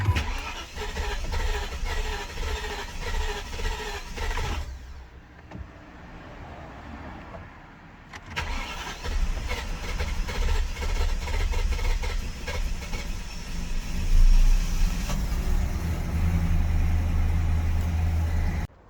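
A BMW 7 Series with a starting fault cranks repeatedly, the starter churning in long rhythmic bursts with a brief pause before cranking resumes, then the engine catches and settles into a steady run close by.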